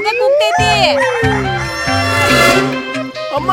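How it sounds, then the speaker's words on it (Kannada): A rooster crows loudly and close by in a long, rising, harmonic call. Voices and other sounds overlap it through the short stretch. "ನಿಮ್ಮ ಕೋಳಿ ಕುಕ್ಕು ಅನ್ನೋದನ್ನ ನಿಲ್ಸೋದಕ್ಕೆ ಹೇಳಿ"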